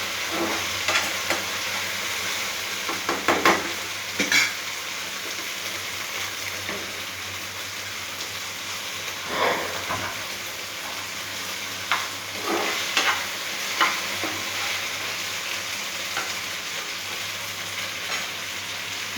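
Okra (lady finger) deep frying in hot oil, a constant bubbling sizzle with occasional louder stirring scrapes and knocks, close and moderately loud.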